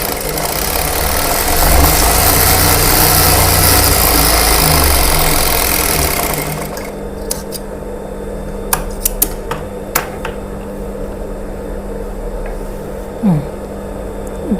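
A tailor's sewing machine runs steadily while stitching a lining joint, a dense continuous mechanical hum for about six seconds, then stopping into quieter handling with a few sharp clicks and taps of fabric and machine.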